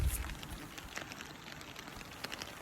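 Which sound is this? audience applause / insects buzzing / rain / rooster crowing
rain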